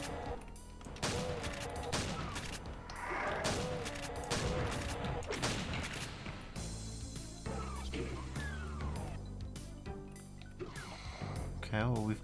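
An enemy chain gunner in the video game Project Ridium fires rapid bursts of gunfire, with several clustered volleys in the first half, followed by steadier in-game sound effects and humming later.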